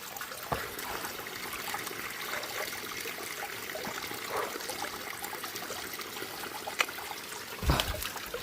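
Water trickles gently along a stream in a steady, quiet flow, with a few faint splashes and no voices.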